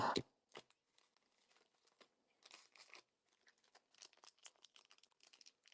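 Sealed Magic sports card boxes shuffled by hand, giving a quick series of soft scraping and crinkling bursts of cardboard and plastic wrap, close and fairly quiet, with no talking.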